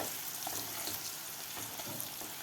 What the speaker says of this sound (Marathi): आता आपल्याला हे बनवून घेतलेला मसाला घालायचा आहे मसालासुद्धा आपल्याला व्यवस्थित फ्राय करून घ्यायचा आहे